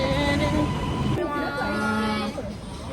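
A metro train at MRT Stadium Kajang station rumbles loudly with steady rail noise and sustained tonal whine, close by, with some voices mixed in.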